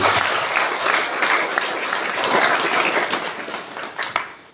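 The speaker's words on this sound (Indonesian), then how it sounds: "Kasih tepuk tangan buat Tuhan." A church congregation applauds during a sermon: dense, steady clapping fills the room and swells and dips without pause.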